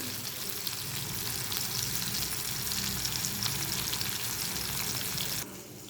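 Fish sizzles and crackles steadily in hot oil for Andhra-style fry, a loud, close, dense hiss that runs unbroken before dropping in level at the very end.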